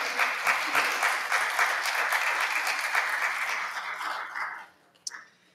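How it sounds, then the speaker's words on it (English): A church congregation applauds during a celebration-of-life service, sustained clapping that holds steady then fades out near the end, followed by a brief sharp knock. "That deserves an applause."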